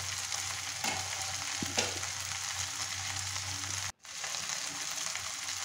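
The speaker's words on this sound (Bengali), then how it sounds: "এখন ঢাকনা লাগিয়ে কিছুক্ষণ ভেজে নিব, চুলার আগুন মিডিয়াম আঁচে রেখে।" Bheda fish frying under a lid in a pan over medium heat, giving an even, continuous sizzle with a few faint knocks and one brief dropout near the end.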